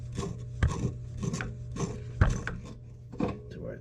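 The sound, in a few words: tightening a well pressure switch with channel lock pliers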